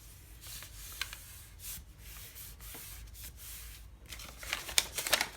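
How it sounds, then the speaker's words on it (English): A sheet of paper is folded over and creased in a straight line across, giving soft, close rustling and rubbing with a few light crinkly taps near the end and no talking. "So if I just take this right here and fold that over, make sure I get a nice straight fold all the way across."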